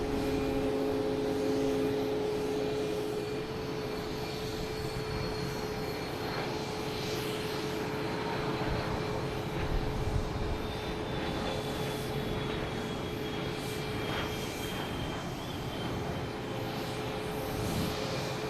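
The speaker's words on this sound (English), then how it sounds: "Next to take off is a Cessna Citation." A Cessna Citation business jet takes off at Boston Logan Airport, its engines a steady, moderately distant roar with a faint whine that holds evenly throughout, with no voices.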